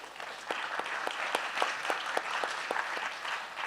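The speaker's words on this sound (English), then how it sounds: "A round of applause for our panelists." A conference audience applauds panelists after a disaster risk financing discussion, with a steady patter of many hands clapping at moderate distance and no talk over it.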